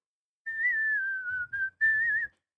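Clear solo whistling of a Snow White tune, a sustained melodic line with a short break and a final phrase, close and alone.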